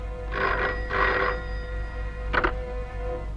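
A telephone bell rings loudly indoors in short bursts, two rings close together, then a pause and a briefer third ring.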